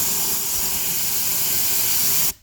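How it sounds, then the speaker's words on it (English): Compressed air gun blasting air through a clogged garden fountain, a loud steady hiss that cuts off abruptly near the end, with no talking. "Air gun, air chuck, air nozzle, whatever. Here we go."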